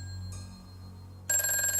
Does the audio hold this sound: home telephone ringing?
yes